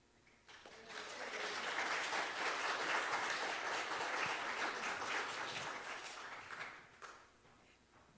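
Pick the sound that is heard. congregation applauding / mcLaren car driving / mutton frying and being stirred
congregation applauding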